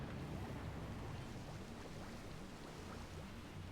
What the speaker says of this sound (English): I don't like the sound the water makes here.